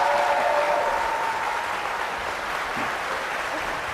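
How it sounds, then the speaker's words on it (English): Audience applause fills the hall at the close of the final Ohio governor's debate between DeWine and Cordray, a steady, dense clapping wash that holds at an even level throughout. "Audience, you can applaud now if you'd like."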